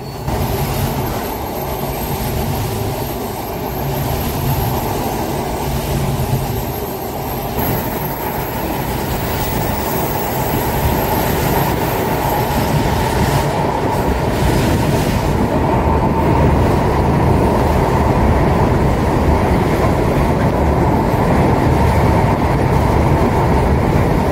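The Jahanabad Express rolls along the Padma Bridge rail route in Bangladesh with a loud, constant rumble of wheels on track, rattling carriages and a high squeal fading out midway, all without voices.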